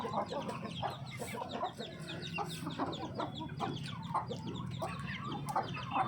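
Hens close by cluck and squabble continuously, with overlapping short clucks and squawks in an uneven, busy rhythm and no one talking.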